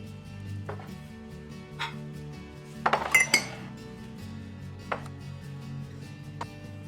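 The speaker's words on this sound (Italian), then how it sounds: "Sistemo qui anche le ciotole per insalata e dolci, una dentro l'altra" Ceramic salad and dessert bowls clink and knock together as they are nested one inside another, several times, with a cluster of sharp clatters in the middle and quieter single taps around it.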